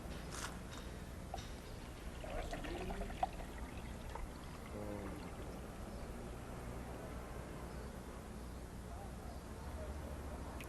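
Water pours from a one-litre bottle into a cube-shaped container, a faint, continuous gurgling trickle heard up close, with brief soft knocks of handling early on and no voices.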